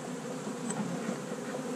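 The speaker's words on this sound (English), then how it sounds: "knock some of the bees off of here." Honeybees buzzing around an open beehive during an inspection: a soft, steady swarm hum held close, with no talking.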